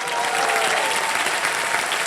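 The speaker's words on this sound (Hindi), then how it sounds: "जोरदार तालियां उनके लिए।" Studio audience applauding a band on the Hindi game show Wheel of Fortune hosted by Akshay Kumar, a steady dense wash of clapping held at an even loud level throughout, with no talk over it.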